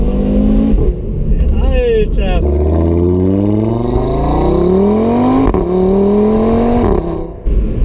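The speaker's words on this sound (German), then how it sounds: "hier kommt der Motorsound einfach noch viel besser zur Geltung und ist einfach super laut" A 2016 Audi TT RS Roadster's engine revs loudly and close by, with rising and falling pitch sweeps through several strong pulls, and a voice exclaims briefly over it.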